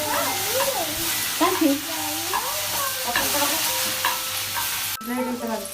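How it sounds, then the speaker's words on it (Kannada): Sliced okra fries in a little oil in a pan with a steady, loud sizzle and occasional stirring, while a voice talks over it. "ಒಂದು ಒಂದು ಕಾಲು ಸ್ಪೂನಷ್ಟು ಎಣ್ಣೆ ಹಾಕ್ಕೊಂಡು ಅದನ್ನು ಚೆನ್ನಾಗಿ ಬೆಂಡೆಕಾಯಿ ಹುರಿಬೇಕು"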